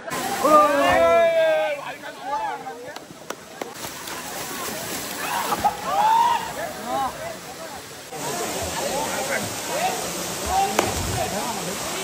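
People leaping into a pool at Kalmandavi waterfall in Jawhar, with splashes and sloshing water under constant roaring falls and a babble of voices and shouts throughout.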